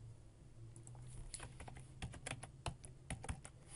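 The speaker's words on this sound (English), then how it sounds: "type in a name" Quiet, close keystrokes sound on a computer keyboard as a name is typed, a short irregular burst of clicks that grows busier toward the end.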